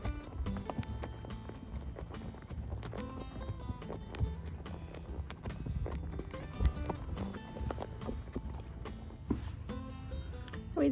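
Horse hooves clip-clop in a steady, busy rhythm during a ranch trail ride, fairly close and continuous over a low outdoor rumble.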